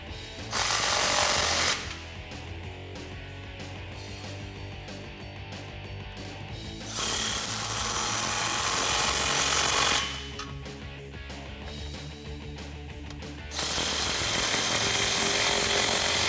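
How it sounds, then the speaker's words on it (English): A power tool with a 15mm socket tightens exhaust hangers on a Jeep Wrangler JK during a cat-back exhaust install, running loud in long whirring bursts with short pauses between them, and no talking. "now using a 15mm socket, we're gonna start tightening up from front to back"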